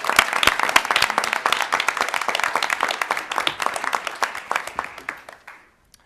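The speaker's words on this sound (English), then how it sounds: "So let's just give Eddie a big round of applause as well." Audience applause at an awards event for challenge winners, dense clapping from many hands that stays loud, then thins out and stops near the end.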